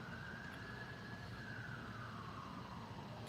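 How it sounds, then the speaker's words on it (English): A faint siren wails in the distance over steady city background noise in downtown Chinatown, its pitch slowly rising and falling. "you can hear sirens out here right now"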